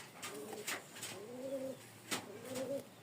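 Tiger breed pigeons cooing close by, a pair kept for sale, with soft repeated throaty coos in a steady rhythm and a few sharp clicks between them, no speech.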